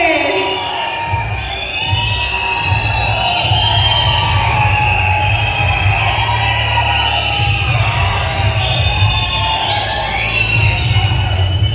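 Audience at the Kaatera 50-day award event cheering and whooping loudly, a dense crowd roar with shouts and yells running throughout under an amplified stage sound.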